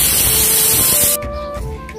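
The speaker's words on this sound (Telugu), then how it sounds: "ప్రెజర్ పోయిందండి కుక్కర్ మూత తీసేద్దాము" Pressure cooker of sorrel leaf dal letting off steam, a loud continuous hiss that cuts off abruptly partway through, followed by quieter kitchen sounds.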